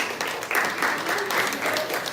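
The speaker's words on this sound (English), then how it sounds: "please welcome them with a big round of applause" Brief applause from a conference audience at an IFGE talk, a thin wash of clapping over two seconds at moderate distance.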